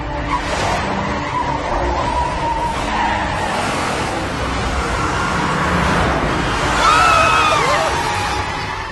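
A speeding vehicle skids in an anime action scene, a loud sustained tire screech with engine roar over a dense, busy background, swelling toward the end.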